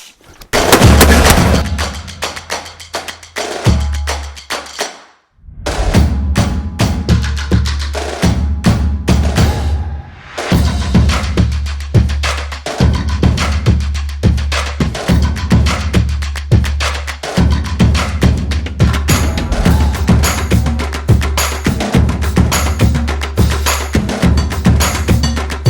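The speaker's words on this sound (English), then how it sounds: "we're going to shoot this at the range today" A Colt LE6940 AR-15 rifle fired at a shooting range, with rapid loud sharp shots in quick strings and two brief pauses between bursts, very close and forceful, and no talking.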